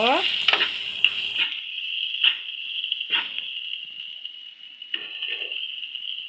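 Potatoes being stirred into masala frying in a pan on a gas stove for egg masala curry: a continuous high sizzle punctuated by several distinct scraping stir strokes, fairly close and loud, with no talking.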